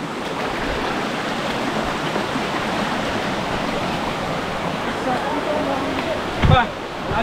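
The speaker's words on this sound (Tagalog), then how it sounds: "Ito na siguro yung sinasabi nila na bukal kung saan nanggagaling yung tubig ng Kaparkan Falls." Spring water flows at the source feeding Kaparkan Falls in Tineg, Abra, making a continuous rushing hiss that stays even and close throughout, broken by a brief knock near the end.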